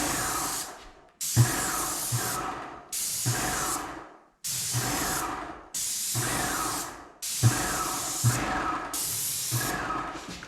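Paint sprayer misting primer onto mobile home kitchen cabinets in repeated loud hissing bursts, about six passes of roughly a second each separated by short gaps, close up.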